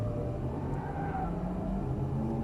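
A Lamborghini Gallardo Superleggera LP570-4 pulls away under light throttle: a low, steady engine drone with faint rising tones sits close and even throughout, with no sharp revving.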